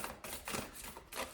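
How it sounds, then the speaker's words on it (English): A tarot card deck is shuffled by hand in quiet, close-up bursts of rapid papery flicking, three or four short riffles in quick succession. "let's give this a shuffle"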